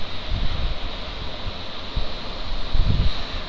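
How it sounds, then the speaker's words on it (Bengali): Prawns fry over high heat in a pan for fried rice, giving a continuous loud sizzling hiss broken by a few dull low thumps as the pan is stirred. "এরপর দিয়ে দিলাম চিংড়ি মাছ, এখন খুব ভালো করে ভেজে নিব।"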